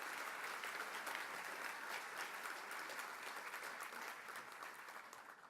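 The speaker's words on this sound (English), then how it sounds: "Could we give everyone a big round of applause for their efforts this past year?" An audience at an annual meeting claps together in a sustained round of applause, fairly soft and even throughout, tapering slightly toward the end with no speech over it.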